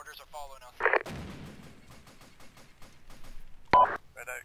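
Mortar fire in the military video game ArmA II, a heavy thumping impact with a rumbling tail among sharp game sound effects and radio-style beeps.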